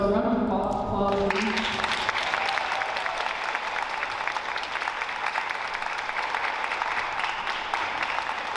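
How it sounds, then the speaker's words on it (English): A crowd at an arts showcase breaks into sustained applause after a short spoken moment, steady dense clapping continuing to the end. "So a round of applause."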